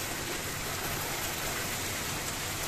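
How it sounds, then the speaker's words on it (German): Dense, constant pelting of hail against a car windshield during a hailstorm in Hungary, a loud unbroken hiss of countless tiny impacts. "Gott, Hagel ist drauf."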